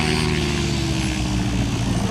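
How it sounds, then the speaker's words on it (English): An RC model helicopter settling into a controlled landing at an air show, its rotor and engine giving a steady, dense, close drone with no break over the short stretch. "Here we have the Aaron coming into a real controlled landing here, set the helicopter down"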